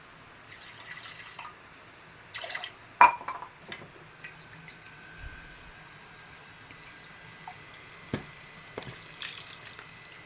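Water is added a little at a time to freshly ground curry paste for a lesser yam curry, making quiet drips and soft trickles with a couple of sharper clinks from the vessel, and no one speaks.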